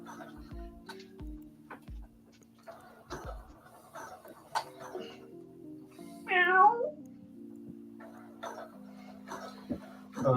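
A male cat meows once in a short rising-falling call near the middle, with a steady low tonal hum and occasional ticks and knocks around it indoors.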